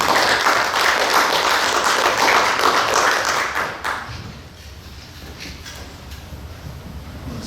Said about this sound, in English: Would you guys give a round of applause to our first guest